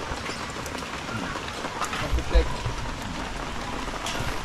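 Steady rain falls on a house construction site where a terrace is being built, a dense even patter with a few heavier knocks and a voice speaking briefly underneath.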